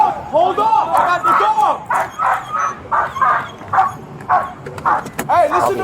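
A police K9 dog barks repeatedly and loudly at close range during an arrest of an uncooperative suspect, a steady run of sharp barks mixed with excited yelps, with shouting voices at moments.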